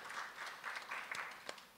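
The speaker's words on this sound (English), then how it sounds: "Let's give the Chinmaya mission a nice round of applause" Quiet, somewhat distant audience applause at a nightly Ramayana Yajna spiritual discourse, a soft patter of clapping that swells and fades with a few sharper individual claps toward the end.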